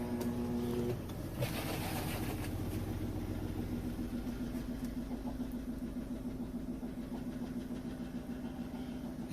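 A washing machine runs on solar power, a steady low mechanical whir with a faint rhythmic churn, preceded by a brief beep, close and continuous without talk.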